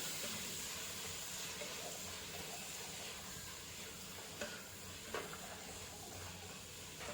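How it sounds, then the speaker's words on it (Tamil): Coriander leaves sauté in a pan while cooking a village-style prawn biryani. The sizzle is soft and steady, with a couple of brief stirring clinks and no talk. "நல்லா கொத்தமல்லி இலையும் போட்டு வதக்கலாம்."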